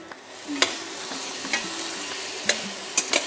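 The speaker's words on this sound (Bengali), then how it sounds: "সয়াবিনগুলো কিন্তু আরেকটু ভাজবো" Soya chunks frying in a pan, a close steady sizzle with several sharp spatula scrapes and knocks as they are stirred, with no voices.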